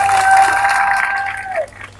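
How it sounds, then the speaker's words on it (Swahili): An audience claps loudly at a foundation-stone ceremony for a National Housing Corporation building in Masasi, Tanzania, a short dense burst of applause that fades out within two seconds. "Tuwapigie tena makofi mengi sana."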